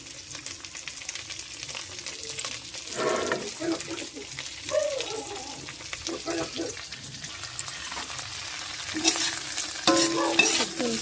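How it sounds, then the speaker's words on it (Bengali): Cauliflower fries in a pan with two other vegetables in a home kitchen, a soft, low sizzle with intermittent spoon stirring and scraping, and a voice briefly audible near the end. "তো চলো প্রথমে ফুলকপিটা দিয়ে দিই এই তিনটা একসাথেই ভেজে নেব"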